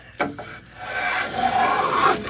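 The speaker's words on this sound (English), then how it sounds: "you can see I'm getting a nice groove with nice shavings" A Record plough plane cuts a groove along a wooden board, giving a rough scraping, rasping rub that builds into a steady stroke after a couple of short knocks, close and alone.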